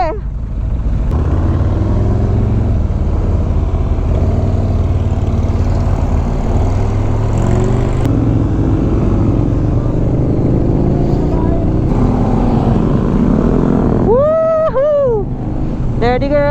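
A BMW R1250 GS HP motorcycle being ridden in traffic, with a steady engine and wind rumble throughout and a few brief whistling, chirping tones near the end.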